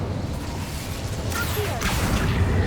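An Incendio fire spell cast in the wizarding game Hogwarts Legacy, a brief whooshing burst with a crackling swish, heard amid busy game sounds.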